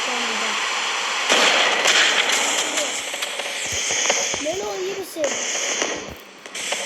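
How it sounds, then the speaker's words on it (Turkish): Bombs blowing up in the sandbox game Melon Sandbox, a loud dense crackling roar of explosions that carries on throughout, with a voice talking over it and some brief tonal game sounds. "Bir de bir bomba daha denemek istiyorum."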